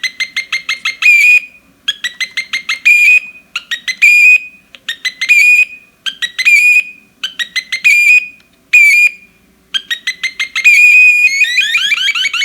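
Electronic circuit imitating birdsong, built around a large charging capacitor: loud, clean bursts of rapid chirps and whistled trills, repeating in regular phrases with short silences between, the last phrase longer and more warbling.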